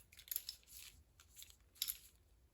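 Protective plastic film peeled off a shiny Krafthaus metal buckle on a cork dog collar, heard as close, quiet crinkly rustles in several short bursts with no talking.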